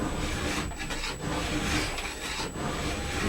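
A metal file rasps along the bevel of a new ski's steel edge during base preparation and tuning, with steady back-and-forth scraping strokes close up that run continuously without a pause.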